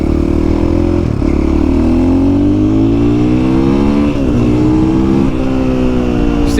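An XR80 dirt bike fitted with a KTM power bundle revs loudly and continuously, its engine note climbing steadily in pitch with brief dips between pulls, close and with no talk.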